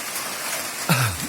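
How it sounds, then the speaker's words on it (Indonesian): Rain falls outdoors during a meal of chicken soto eaten in the rain, a soft steady hiss, then a brief low rumble near the end. "Hujan guys. Hujan."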